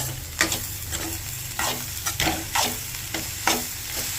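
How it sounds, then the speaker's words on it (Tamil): Shredded cabbage for poriyal, just salted, is stirred in a hot pan with repeated scraping strokes of a spoon over a soft steady sizzle, close and clear. "உப்பு போட்டுட்டு மிக்ஸ் பண்ணிக்கோங்க."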